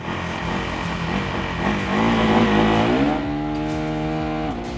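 KTM 390 Duke motorcycle using launch control on a track, engine held at a loud buzzing rev then surging as it accelerates away, harmonics climbing steadily through gear-driven pull over several seconds.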